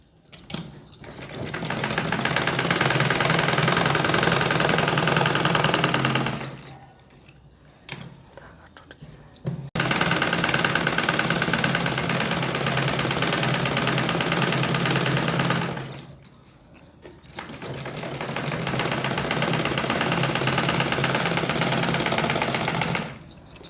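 A sewing machine runs in long steady bursts while stitching a palazzo pant seam, with two short pauses between runs; the motor hum is close and fairly loud.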